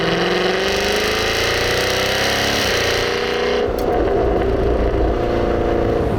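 A Jaguar F-Type Project 7 sports car pulling away hard in dynamic sport mode with manual shifting, its engine a loud, steady roar that climbs in pitch before a brief break and fresh surge, with no talk over it.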